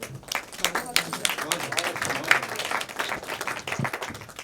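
An audience claps in sustained applause, a dense, fairly close patter of many hands that continues steadily throughout.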